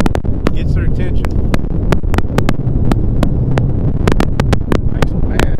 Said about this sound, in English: Good cloudy day. Wind.